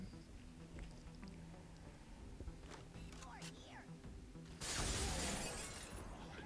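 Glass shatters in the video game Halo: Combat Evolved Anniversary, a sudden loud bright crash near the end, after quieter game ambience and distant effects.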